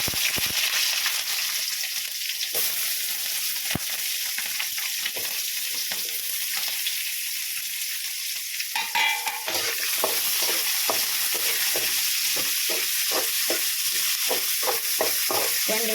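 Dried red chillies and onions frying in oil in a pan, giving a continuous close sizzling hiss with scattered stirring scrapes that grow more frequent and rhythmic toward the end.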